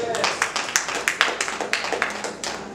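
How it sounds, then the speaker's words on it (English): A church congregation clapping hands in a steady, fairly quick rhythm of sharp claps, moderately close, with a background murmur of voices. "You ought to clap your hands"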